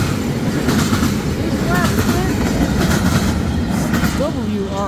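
A CN partially continuous welded rail train rolls through Ladysmith, Wisconsin, with a dense, steady rumble of wheels and cars close by and a few brief, thin wheel squeals.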